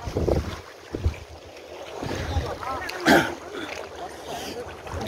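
Waves and surf at a shallow rocky shore near the Yellow House in San Fernando, Cebu, heard with wind buffeting the microphone, a steady wash with a louder surge midway, voices talking over it.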